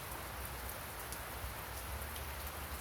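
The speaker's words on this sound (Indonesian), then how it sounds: "cuaca masih hujan rintik-rintik" Steady light rain patters on a surface, a soft continuous hiss with a low rumble underneath and no voices.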